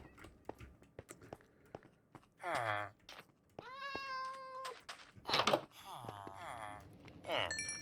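Several cat meows ring out clearly between game footsteps and clicks during Minecraft hardcore play, some short and one drawn-out with rising tones, fairly close and loud.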